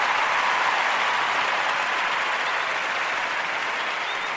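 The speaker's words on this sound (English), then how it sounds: "Go on, clap it up for them." Loud, sustained applause from an audience at a Kuumba Toast performance, a thick unbroken roar of many hands clapping at a steady level throughout, with no voices over it.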